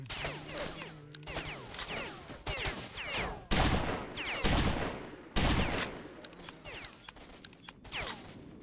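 Bursts of gunfire from the video game STALKER: Shadow of Chornobyl, rapid automatic volleys with a few loud close shots, continuing in irregular clusters throughout with no talking.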